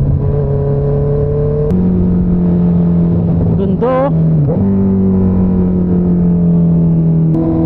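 A Honda CB650R motorcycle engine drones steadily while riding, with a brief sharp rev and pitch swing in the middle; someone talks over the engine noise near the end.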